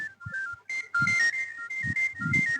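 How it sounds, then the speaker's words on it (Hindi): A mobile phone ringtone plays in a village setting, a bright, looping electronic melody of short repeated tones, loud and close, with low thumps mixed in. "देखिए हो केहू का फोन आवत है यार"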